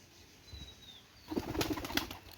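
Pet pigeons flutter in to drink water, a quiet thin call first, then a short close burst of flapping wings.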